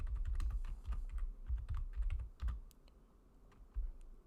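Typing on a computer keyboard, a quick run of close, soft key clicks in uneven bursts with brief pauses, no voices.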